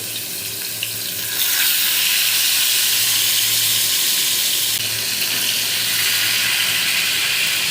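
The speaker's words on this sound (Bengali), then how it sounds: "এরপর এটাকে সুন্দর করে ভেজে নিব আমি" Fish marinated in turmeric, chili and salt frying in a pan gives a steady, loud broadband sizzle that swells after a quieter first second and continues unbroken to the end.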